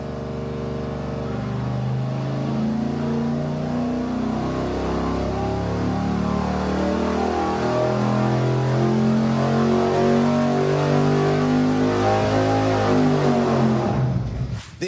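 A V8 engine runs on a dyno with the muffler removed, roaring loudly and steadily as its pitch climbs gradually under sustained load for the whole stretch, then cuts off abruptly at the end.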